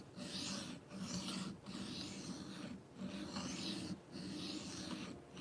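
Knife edge bevel being reprofiled on a sharpening stone, with long rhythmic abrasive strokes in steady repetition, close and fairly quiet, with short pauses between passes.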